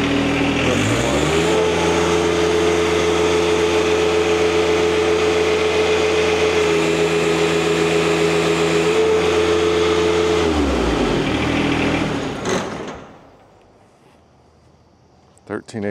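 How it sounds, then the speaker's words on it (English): A hydraulic lift pump engine runs steadily at wide open throttle, a loud sustained drone with stable harmonics for about ten seconds before winding down and cutting off to near silence. "Now we'll go to wide open throttle."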